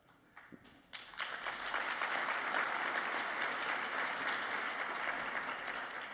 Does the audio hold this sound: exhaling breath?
no